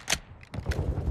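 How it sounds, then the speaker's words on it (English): Quick metallic clicks and clacks of a magazine being swapped on a weapon in Modern Warfare II, two sharp bursts followed by a rattling mechanical shuffle, close and moderately loud. "Changing mags."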